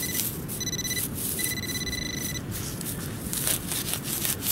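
Electronic tone from a metal detector sweeping over a buried target on an old 1800s property, with a few short steady beeps followed by a longer held tone over a faint background hiss.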